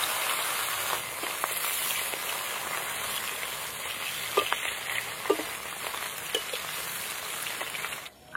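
Fish coated in salt and turmeric fry in mustard oil in a wok, giving a continuous close crackling sizzle with scattered sharper pops and spatters that run steadily to the end.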